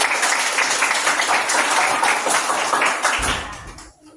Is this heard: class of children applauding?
yes